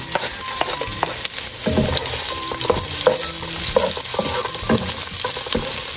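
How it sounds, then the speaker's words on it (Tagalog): Garlic, onion and ginger being sautéed in oil in a pan, a loud close sizzle with scraping stirs of a utensil throughout. "Igigisa ko na po ito pong ating ricado. Ito pong bawang sibuyas at saka po luya."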